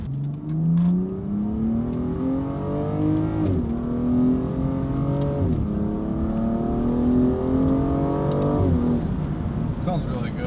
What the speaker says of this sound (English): when the valve is opened, you get the bass behind you, but it's not drony